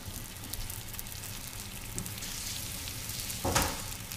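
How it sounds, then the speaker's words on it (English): A pot of rice coming to a gentle boil gives a soft, steady bubbling hiss throughout, with one slightly louder stir or pop near the end and no voices. "So the rice is starting to boil a little."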